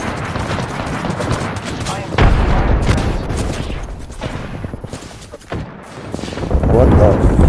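In Apex Legends, an artillery strike barrage thunders down in a dense run of booming explosions and crackling blasts, loud and continuous, with a player's voice breaking in over the barrage.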